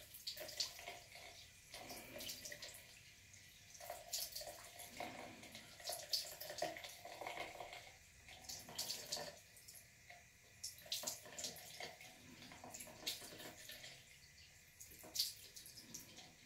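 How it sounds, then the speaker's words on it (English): Water trickles and splashes faintly in uneven bursts as eyelash extensions are rinsed, with soft drips and pauses between the pours. "And then you just take some water, and you just rinse them out."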